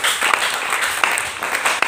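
A church congregation applauds after a Filipino-language service, a dense, steady patter of many hands clapping together, fairly close and lasting a couple of seconds.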